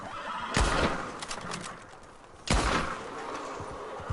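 A horse in Red Dead Online whinnies twice, a loud neigh near the start and another about two seconds later, each sliding down in pitch, with faint hoof and game ambience between.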